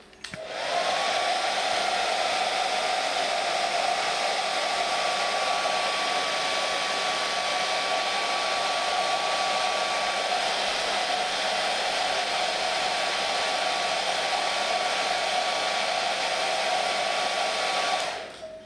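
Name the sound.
heat gun or hair dryer heating sticker edges on fairing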